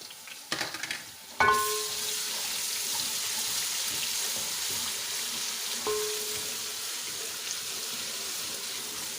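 Garlic and ginger drop into golden-brown onions frying for Sindhi beef biryani, setting off a loud, steady broadband sizzle with a few clattering stirs near the start, close and continuous, no voices.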